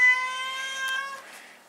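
A house cat gives one long, close meow that slowly fades and trails off into quiet.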